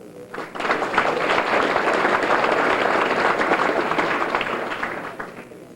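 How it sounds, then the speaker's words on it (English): A crowd at a 1992 high school Hall of Fame ceremony applauds the maintenance crew, loud dense clapping that swells quickly and stays full throughout, with a few cheers in the mix. "Nice round of applause for them."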